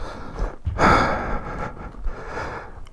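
Heavy breathing from a rider after off-road riding on a Honda Africa Twin CRF1000L comes through as a few loud, close gasps and puffs of breath in quick succession.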